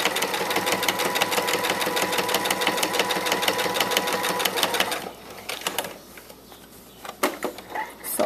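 Sewing machine edge stitching a paper-pieced quilt block, a continuous rapid mechanical whir for about five seconds that stops abruptly, followed by faint handling clicks and thumps.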